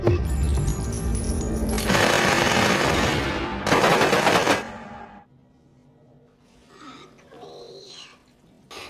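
Film gunfire erupts in two loud bursts of rapid shots. A quieter stretch follows with faint scattered sounds.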